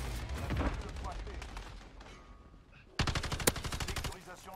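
Sniper rifle shots in Call of Duty Modern Warfare, a rapid burst of sharp gunfire cracks near the end with one especially loud report, following a stretch of busier in-game battle noise.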